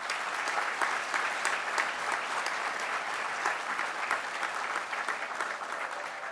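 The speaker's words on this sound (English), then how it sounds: "Let's give a round of applause to Hunter Industries and their Chief Executive Officer," A room full of people applauds steadily and densely for a business award recipient taking the stage at a city address event, with no voices standing out over the clapping.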